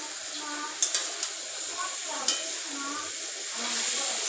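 Pigeon meat stirred and fried in a pan, a steady close sizzle and hiss throughout with a few sharp clinks of a utensil against the pan.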